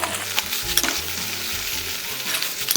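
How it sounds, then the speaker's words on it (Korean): Shredded pork is stir-fried with sauce in a wok for jingjiang rousi, a loud close sizzle with rhythmic scraping and tossing of the spatula throughout. "이제 여기에 아까 준비해 놓은 소스를 넣어서 다시 한번 볶을 건데요"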